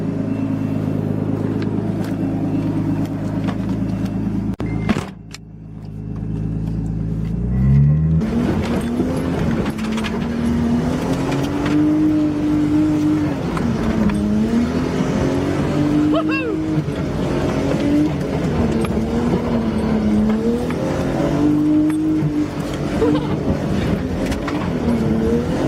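A Nissan R32 Skyline drifting on a backyard drift track, its engine droning and rising through the revs, loud and close, with tire noise mixed in and a short lull near the start.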